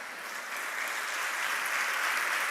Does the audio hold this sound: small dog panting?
no